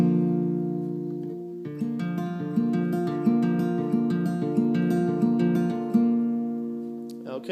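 An acoustic guitar picks the opening chords of a song note by note in a gentle, even fingerpicked pattern, close and moderately soft, with no talking.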